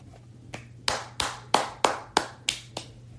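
Single pair of hands clapping slowly, about eight sharp, close claps in a loose, unhurried rhythm, starting faint and growing louder, with no talking.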